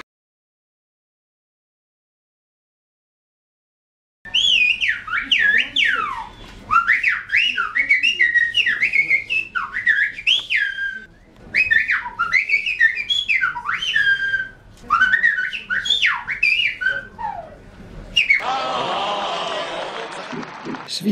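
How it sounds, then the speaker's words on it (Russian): Someone whistles a lively, quick tune with bouncing pitch jumps, starting after a few seconds of silence and ending in a burst of brighter noise. "Свистнуто, не спорю, действительно свистнуто."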